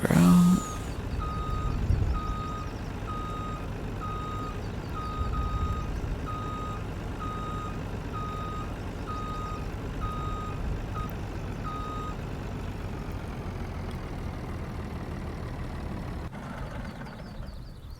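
A truck in Farming Simulator 19 rumbles steadily at a low idle while its reversing alarm beeps in a regular, evenly spaced pattern, loud and close throughout, with no talking.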